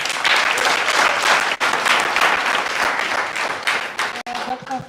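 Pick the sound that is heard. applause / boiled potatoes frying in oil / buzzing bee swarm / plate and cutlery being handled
applause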